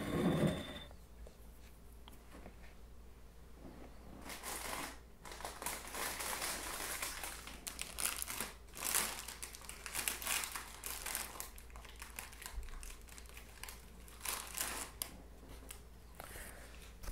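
A paper coffee filter is folded and crinkled by hand, producing intermittent close, crisp crackles and rustling bursts over a quiet background.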